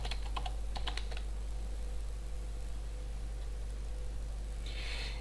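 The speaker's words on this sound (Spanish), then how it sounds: "Entramos en la contraseña." A short burst of quick, light keypresses on a computer keyboard as a password is entered, then steady hum with no talking.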